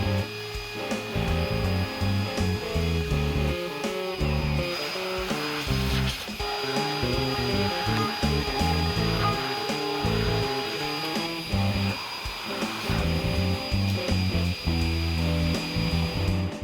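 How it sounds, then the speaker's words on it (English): A router hollows out the middle of a walnut circle with a loud, steady whine and humming tone that runs throughout without any speech. "so I could router out the middle of the circle."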